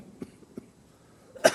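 A person with a cold coughs in a church setting: two soft, short coughs close together, then a louder, sharper cough near the end, alone with no talking.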